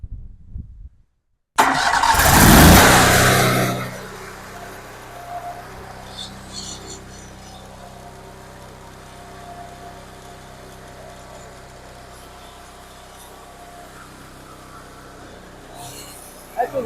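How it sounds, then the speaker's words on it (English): A loud engine on an American Jetter 51T Series hot water jetter starts up with a burst of noise, then settles into a steady, droning mechanical hum that runs on without speech. "That's with one engine running."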